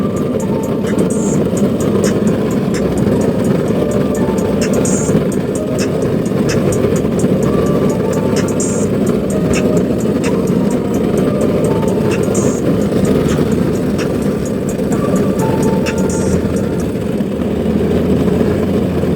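A homemade electric go-kart drives along with a steady whirring motor hum and rolling road noise, close and continuous, with faint repeating ticks over the drone.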